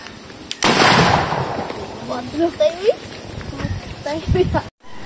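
A homemade boga cannon fires with a single loud, close boom that decays into a rumbling tail, followed by people talking nearby.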